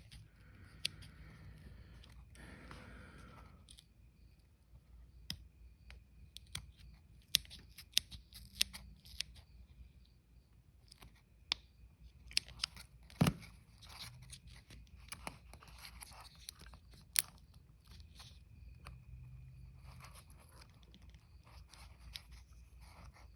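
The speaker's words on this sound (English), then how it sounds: "These scissors are dull as frick." Quiet, irregular snipping and scraping clicks of dull scissors cutting, scattered through the clip with faint rustling between cuts.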